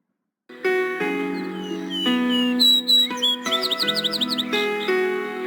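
A bird sings clearly and close, a run of bright chirps, whistles and rapid trills that starts abruptly and continues without pause.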